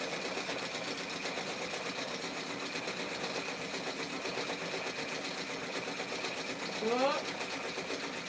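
A sewing machine stitches steadily for several seconds, a continuous whirring hum with someone talking over it and a short exclamation near the end.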